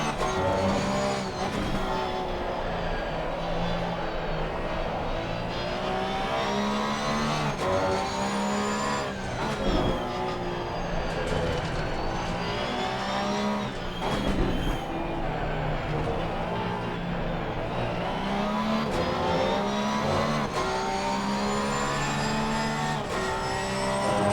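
A Porsche GT3 R racing around Barcelona in Assetto Corsa Competizione, its engine a loud, constant whine that rises and falls through gear changes, with bursts of tire squeal and other cars close by throughout.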